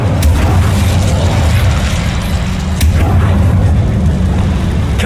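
The Incendio fire spell is cast in a video game: a loud, continuous roaring burst of flame with sharp crackling pops, steady throughout and filling the clip.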